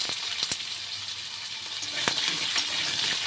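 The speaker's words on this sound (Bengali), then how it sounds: "আলুগুলো আগে একটুখানি ভেজে তুলে রাখবো" Potatoes fry in a hot pan with oil, giving a steady, fairly loud hiss that runs throughout, broken by a few sharp clicks from a utensil moving the pieces.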